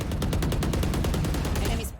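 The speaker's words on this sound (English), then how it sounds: "I start shooting randomly" Rapid, loud gunfire from the agent Cypher in the shooter Valorant, a steady fast stream of shots close up, with no break for nearly two seconds.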